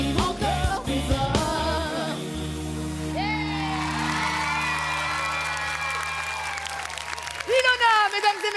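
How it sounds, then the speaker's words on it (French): A crowd cheers and whoops in applause for a performer on a children's talent show, layered over sustained music, with voices rising loudly near the end. "Applaudissements, applaudissements pour le talent."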